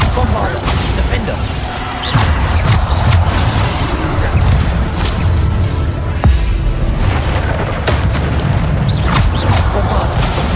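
Repeated Bombarda spell blasts in Hogwarts Legacy combat, loud booming impacts with crashing debris, several hits spread across the stretch over a dense bed of game noise and effects.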